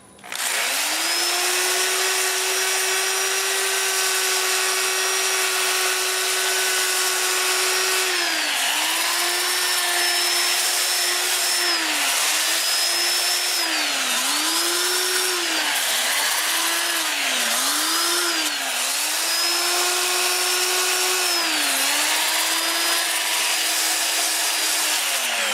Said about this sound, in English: I'll just sand that nub off.